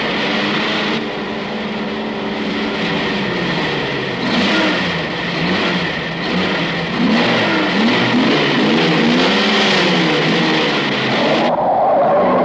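A car engine revs in a 1962 film, a steady, rough mechanical drone that swells and wavers in pitch as the throttle rises, loud and close throughout with no talk over it.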